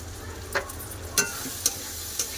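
Fried potatoes are stirred through a spice masala in a pan for an egg curry, with a steady faint sizzle of frying under four sharp scraping strokes of the spoon spaced about half a second apart. No one speaks.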